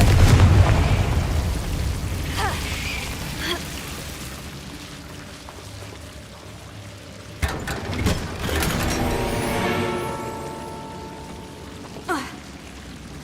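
Confringo fire-blast spell in the video game Hogwarts Legacy, a booming burst at the start that fades into rumble, followed by sharp pops and crackling impacts with whooshing sweeps, moderately loud.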